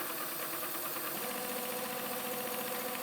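A sewing machine stitching a hem runs with a steady, even mechanical whir and fine rapid needle ticking, constant and close throughout with no voices.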